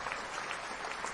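Steady applause from a group, a dense wash of many hands clapping with no voices on top.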